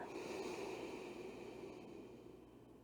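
Slow yoga breathing, a soft, close, airy breath that fades gradually over a few seconds in a quiet room.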